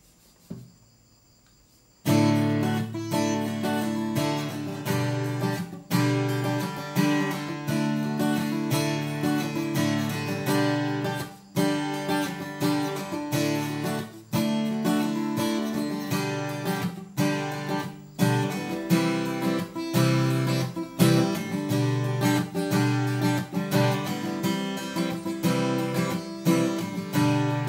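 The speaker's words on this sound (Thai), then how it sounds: "นี่คือเสียงของตัว TS1E Rosewood" Dolce TS-1E acoustic guitar with rosewood back, strummed continuously after a short silent start; bright, full chords ring with regular rhythmic strokes and brief pauses, played alone and fairly close.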